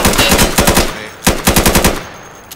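Machine gun fire in the video game Insurgency comes in two loud, rapid bursts of evenly spaced shots separated by a brief pause, close and sharp.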